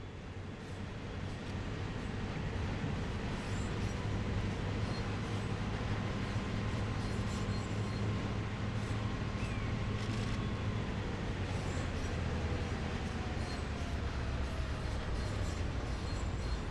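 A train moves in the Train Sim World 2020 video game with a steady, continuous rumble and rolling drone that stays even and unbroken throughout.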